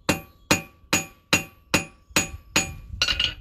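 A hand hammer strikes hot round metal stock on an anvil outdoors in cold air, drawing it out square; seven sharp, ringing blows land at a steady, even pace, close and loud.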